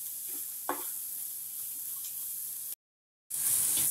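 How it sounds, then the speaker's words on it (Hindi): Chopped vegetables and capsicum sauté in a pan for oats masala with a continuous hissing sizzle and one soft stirring knock. The sound drops out briefly, then returns brighter and louder. "हमने कैप्सिकम को भी 1 मिनट तक अच्छे से भून लिया है।"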